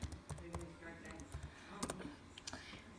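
A computer keyboard clatters as a search is typed, quick irregular clicks and taps close by, fairly quiet under a busy background.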